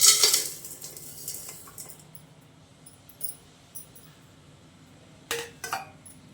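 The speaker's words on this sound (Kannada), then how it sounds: "ಬೆಲ್ಲ ಸೇರಿಸ್ಕೊತಾ ಇದ್ದೀನಿ ಒಂದು ಪಾತ್ರೆ ಒಳಗಡೆ." Jaggery goes into a metal cooking vessel for peanut laddoo, opening with a loud clatter of metal, then quieter scattered clinks and a couple of sharp knocks later on.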